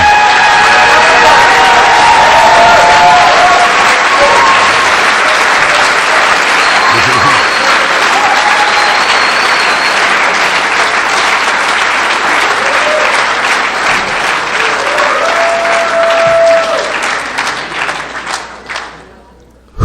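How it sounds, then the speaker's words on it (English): A large convention crowd bursts into loud, sustained applause mixed with cheers and whoops, a dense roar of clapping that holds steady for most of its length before gradually thinning out and fading near the end. "I think you all should give them a fucking round of applause."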